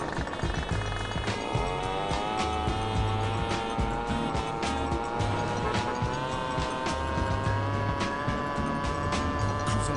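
Motorcycle engine in GTA San Andreas during a ride around a Los Santos loop, a steady sustained whine with shifting pitch, game traffic around it and no talk.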